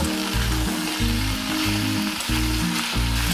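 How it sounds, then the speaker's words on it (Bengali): Turmeric, chilli and green chillies stirred as they fry in a pan for a rohu fish curry, a steady close sizzle with periodic scraping pulses as the spoon moves, no talk. "এইবার আমি একটু নেড়ে চেড়ে নিয়ে জল দিয়ে দেব"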